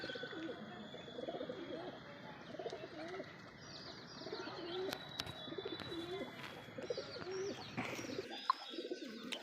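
Pigeons coo softly and chirp as they land at an outdoor loft, with faint, scattered calls repeating over quiet background noise.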